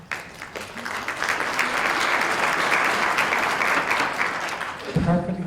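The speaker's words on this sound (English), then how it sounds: "Perfect example of polite applause." Polite applause at a town meeting, even clapping from the seated audience that swells and holds steadily, then a voice begins speaking near the end.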